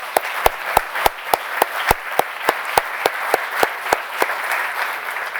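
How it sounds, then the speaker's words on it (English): An audience at an awards ceremony applauds, with one close clapper landing sharp, evenly spaced claps over a softer spread of crowd clapping that carries on steadily throughout. "let us clap for you just very quickly"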